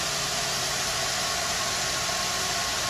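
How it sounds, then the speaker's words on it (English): Citroen SM engine running and revving slightly, a steady, loud mechanical drone that holds even throughout with no voices. "Disengage the key, rev the motor a little bit"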